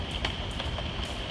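Rain falling outdoors, a steady soft patter with scattered louder drops hitting a surface, fairly quiet and continuous, with no talking.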